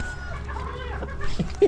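Chickens cluck softly in a farmyard, with a few low, brief clucks and a faint higher call partly masked by a steady low background rumble. One clearer cluck comes near the end.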